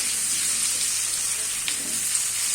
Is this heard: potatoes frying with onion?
yes